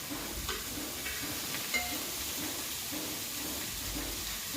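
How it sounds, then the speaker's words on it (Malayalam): Thinly sliced beans and carrots stir-fried on a high flame for fried rice, a steady sizzle with scraping stirs and a light metallic clink partway through, close and continuous. "അതിലേക്ക് നമ്മൾ ചെറുതായി അരിഞ്ഞു വെച്ച ബീൻസും ക്യാരറ്റും അതും ആഡ് ചെയ്യാം."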